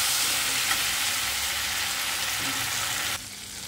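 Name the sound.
bay leaf and cumin frying in hot oil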